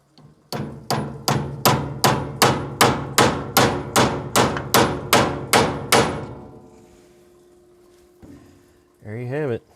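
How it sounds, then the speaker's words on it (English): Twelve evenly spaced, ringing metal hammer strikes in a fast rhythm, close by, driving a 3/16 drive-type grease fitting during drag link boot replacement, then a pause and a brief low rumble. "Now I just need a hammer."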